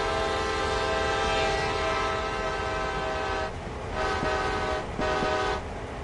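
A freight train passes on the Northeast Corridor in Train Sim World, its engine droning steadily while the horn sounds a long sustained blast, then several shorter toots with gaps between them.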